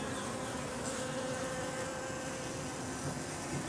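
Bees swarm inside a hollow wild bee tree, a dense, continuous buzzing hum, close and steady, with no voices.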